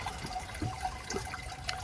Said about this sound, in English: And there's just the water coming down,